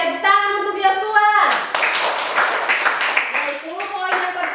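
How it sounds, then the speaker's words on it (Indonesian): A classroom of students claps for a classmate, a bright burst of applause that rises after a teacher speaks and goes on under more talk. "Oke, tepuk tangan untuk Yosua."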